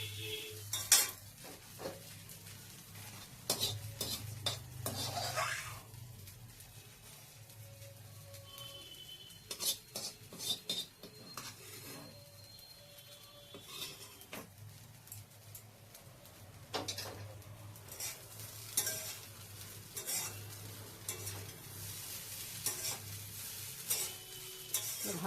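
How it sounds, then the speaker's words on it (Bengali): Semolina halwa with egg being stirred in a pan, close up: irregular scraping and clinking of a spoon against metal over a soft sizzle, in uneven bursts with short pauses. "ভালো করে মিশিয়ে নেব।"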